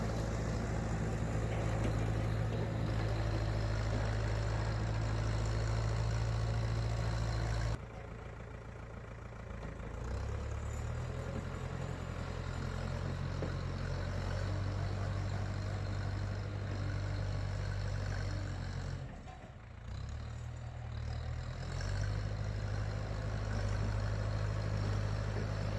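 Old Case backhoe with its engine idling at a building foundation site, a steady low rumbling diesel idle that dips briefly in level twice and then settles back, continuous and alone without talk.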